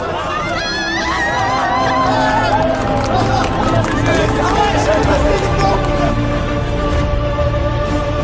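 A crowd cheers and calls out at a foggy sunrise beside ancient cave homes in Turkey. The cheering is loud and continuous, a dense babble of voices with whoops rising throughout.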